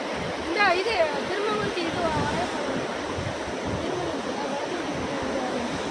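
Floodwater from continuous rain rushes in a continuous roaring wash, with a person's voice speaking briefly over it at first.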